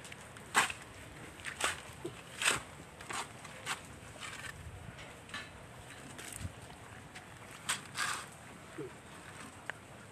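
Gusty typhoon wind buffets the microphone in uneven bursts over a low, steady rumble, with no one talking.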